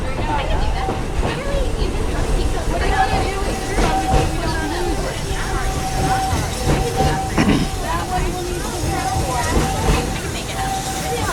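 A theme park railroad train at Magic Kingdom, Walt Disney World, rumbles steadily along the rails with a faint sustained tone, while a voice talks over the continuous running noise.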